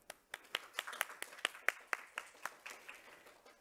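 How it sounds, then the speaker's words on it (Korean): Scattered hand claps from a small forum audience, a dozen or so sharp claps spread unevenly over a few seconds, thinning out toward the end. "Big applause, please."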